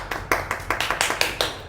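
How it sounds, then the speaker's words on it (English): Hands clap in a quick, even rhythm, about nine sharp claps in under two seconds from a small indoor group, close and fairly loud with no voices over them. "give him a clap"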